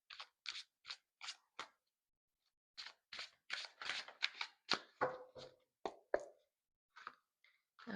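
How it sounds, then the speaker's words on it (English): Tarot cards shuffled by hand, heard close and quiet as crisp riffling bursts and snaps in an irregular rhythm, with a brief pause between clusters, and nobody speaking. "So let me do some shuffling for Jasper."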